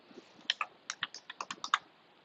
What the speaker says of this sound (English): And I hate typing.